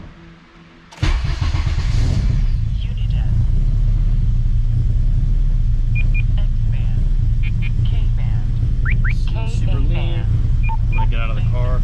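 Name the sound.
8th gen Honda Civic Si engine starting and running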